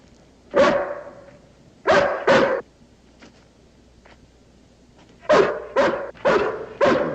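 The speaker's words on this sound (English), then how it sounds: "Can't be Jody's hound." A hound dog barks in loud, close bursts, single barks and quick doubled pairs, a pause then a run of four sharp barks.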